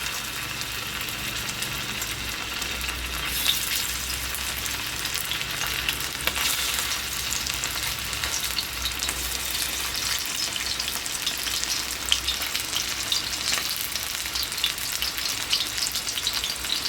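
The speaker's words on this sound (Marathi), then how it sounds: "आपले बोंबील तळण होत आहेत" Bombil (Bombay duck) fish sizzle and crackle steadily in hot oil, a dense continuous frying hiss with occasional pops, close and alone without talk.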